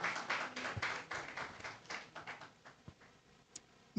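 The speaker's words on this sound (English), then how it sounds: "Shall we applaud him?" An audience at a public engagement forum in Koforidua gives faint, scattered applause from a distance, the clapping thinning out and fading within a few seconds.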